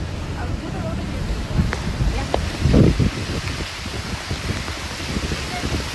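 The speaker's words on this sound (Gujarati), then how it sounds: "આ વરસાદ અત્યારે એવો જ છે" Steady, dense hiss of heavy monsoon rain pouring down in Junagadh, with floodwater around, a voice talking over it and a brief louder burst partway through.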